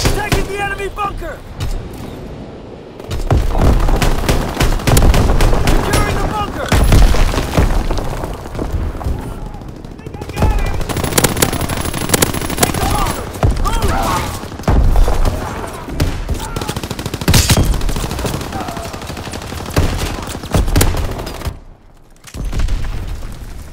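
Gunfire and explosions from the World War II shooter Call of Duty WWII rage almost continuously, with dense rattling shots and heavy booms, loud and close, broken by brief lulls.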